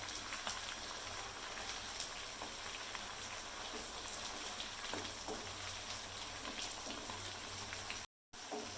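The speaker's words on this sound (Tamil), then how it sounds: "எல்லாம் மாற்றி போட்டு எல்லாமே நல்லா பொரிஞ்சிருச்சு." Fish pieces fry in a pan with a quiet, steady, dense crackling sizzle that cuts out briefly near the end.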